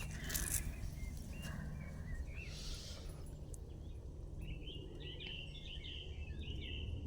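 Small birds chirp and trill among wild plants and yellow flowers outdoors, with scattered high calls over a faint steady background hum and soft rustling.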